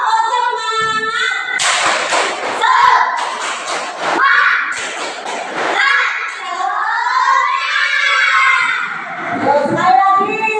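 Children doing a rhythmic 'tepuk semangat' clap during a school physical education lesson, with sharp patterned claps and chanting voices in a loud group, amid shouting and a teacher's speech.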